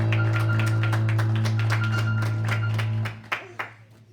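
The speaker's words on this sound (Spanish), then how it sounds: "dale un aplauso al Señor" A small church congregation claps in a quick, steady rhythm over a sustained organ-like drone, then the clapping stops with a few last taps.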